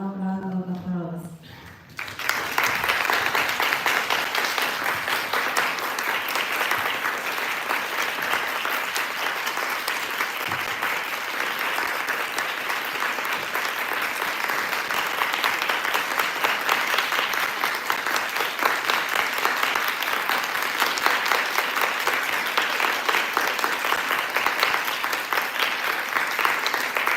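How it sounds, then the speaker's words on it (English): Sustained, loud audience applause fills a contest hall after the participants finish their speeches, with a standing crowd clapping steadily and evenly for more than twenty seconds following a brief spoken lead-in. "Please stand up and give them a warm round of applause."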